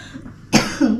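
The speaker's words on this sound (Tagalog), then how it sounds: "Ay, ubo ko eh" A single sharp cough bursts out close to the mic, followed by a brief throaty vocal tail, after a moment of quiet room noise.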